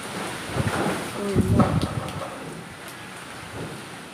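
Strong wind gusts roar through a rainstorm at night, buffeting and rumbling with rain noise beneath, swelling midway while someone speaks over it.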